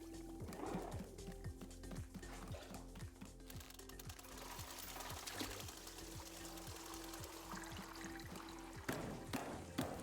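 Coffee brewing in the Wanderstop video game gives a faint, rapid mechanical chugging with trickling, pouring liquid, steady and close for ten seconds, with a few brighter splashes near the end.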